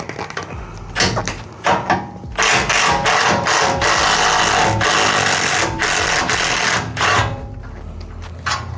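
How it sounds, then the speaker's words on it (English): A new 3/8-drive impact wrench set to its highest setting breaks a rusty bolt loose, close and loud. Short rattling bursts give way to a long hammering run and then a few final brief bursts. "Try out my new 3/8 drive impact."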